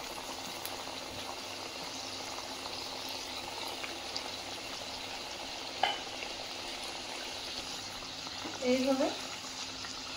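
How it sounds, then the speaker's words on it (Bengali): Khaja sweets deep-fry in a pan of hot oil with a steady, low bubbling sizzle that continues throughout, with a brief clink near the end and a voice speaking briefly. "দেখো বন্ধুরা, তেলটা গরম হয়ে গেছে। এখন একে একে ভেজে নেব।"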